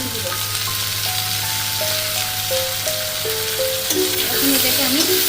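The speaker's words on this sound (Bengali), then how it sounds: "ভালো করে নেড়ে চেড়ে কষিয়ে নেব" Pointed gourd with slit green chillies and salt stir-fried in a pan for a Bengali potol dish, giving a steady sizzle throughout with background music over it.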